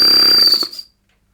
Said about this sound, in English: Whistle works.